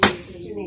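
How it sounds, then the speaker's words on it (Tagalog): A single sharp hammer tap drives a PVC pipe onto an electric fan bushing, a quick close knock with a short ringing decay. "Tapos pupukin nyo ng martilyo guys."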